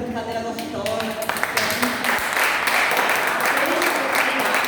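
A church congregation claps together in praise during a Sunday Bible school gathering, a full sustained round of applause filling the room from start to finish, with voices mixed into it.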